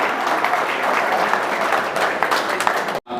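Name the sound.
audience applause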